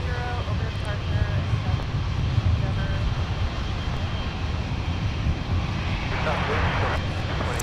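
An Iberia jet airliner taxis at Minneapolis–Saint Paul airport, its engines giving a steady, loud, broadband roar that holds through the whole stretch, with faint voice chatter underneath.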